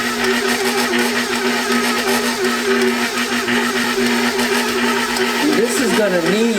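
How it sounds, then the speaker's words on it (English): A stand mixer kneads 65% hydration Neapolitan-style pizza dough sweetened with honey, its motor giving a loud, steady whirring drone with a slight pitch wobble near the end, and someone speaking over it. "And this is going to knead for approximately 15 to 20 minutes"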